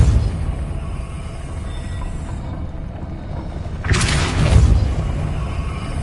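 Depulso spell cast in a wizard simulation game, a deep rumbling boom over steady low background noise, with a sharper broadband whoosh-burst near the end.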